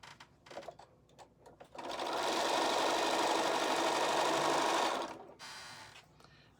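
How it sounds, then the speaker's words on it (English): A sewing machine runs in one steady, loud burst of about three seconds while stitching a quarter-inch seam on a quilt block made from charm pack or jelly roll fabric, with faint handling of fabric before and after. "line your edges up, and stitch 1/4 inch across there"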